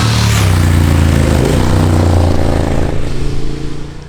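Triumph Speed Twin 1200 motorcycle fitted with Akrapovic slip-on exhausts and a Motone X-pipe, giving a loud, deep, steady exhaust rumble close by that eases off slightly near the end.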